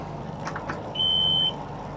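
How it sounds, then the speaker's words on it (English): A boat's engine system alarm sounds one sharp, steady high-pitched beep lasting about half a second, clear above a low engine-room rumble and faint background noise. "System alarm again."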